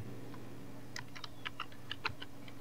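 Light, irregular keystrokes tap on a computer keyboard while text is typed into Microsoft Word, the clicks close and quiet over a low steady room hum.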